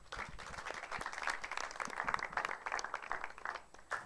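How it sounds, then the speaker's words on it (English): Applause from an audience at a panel session of the Africa Climate Summit, a dense crackle of many hands clapping steadily throughout, fairly close and sustained. "A round of applause for the panelists as we go back to the seat."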